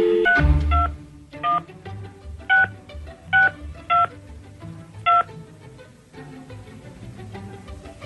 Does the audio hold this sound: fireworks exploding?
no